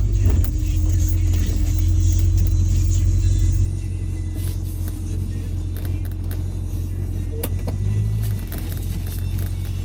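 A 1969 Ford Mustang with 59K original miles, back on the road after sitting 30+ years, rumbles from inside the car. A deep, loud engine note eases off partway through, then settles into a steady cruising drone with faint interior clicks.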